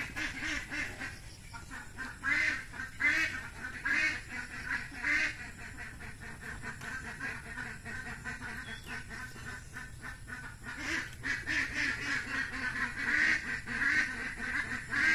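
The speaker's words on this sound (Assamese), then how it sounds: "হাঁহকেইটা চিঞৰিবলৈ ধৰে" Ducks in a house yard quack over and over in noisy, overlapping bursts that keep going throughout, growing louder and busier toward the end.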